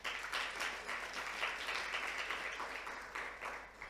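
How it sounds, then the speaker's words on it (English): A conference audience at an HIV and adolescent health session applauds a presenter with soft, even crowd clapping that swells and eases over a few seconds, heard at a distance. "May we please have a round of applause for her."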